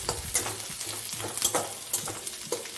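Green chillies sizzle and crackle in hot oil while being stirred in a pan, with steady frying hiss broken by repeated scraping strokes, close and alone.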